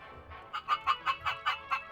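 A Minecraft chicken clucks in a quick, even series of about seven short, close clucks, with no voices.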